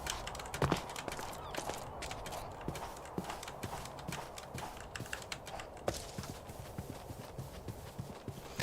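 Horses in a Minecraft TerraFirmaCraft game clop along with quick, irregular hoof clicks, faint and steady throughout.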